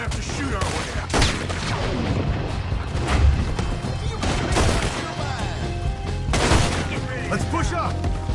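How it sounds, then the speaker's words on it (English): Gunfire in a Red Dead Redemption 2 shootout: loud, dense bursts of shots with crashes and horse whinnies, under constant game noise and voices talking throughout. "We'll have to shoot our way out."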